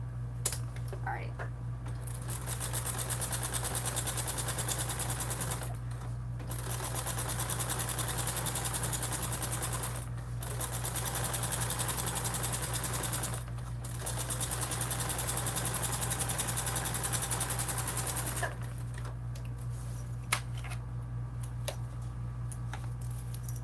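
A sewing machine stitches a Swoon Maisie bag in several long steady bursts of rapid mechanical whirring, broken by short pauses, with a low electrical hum running underneath throughout.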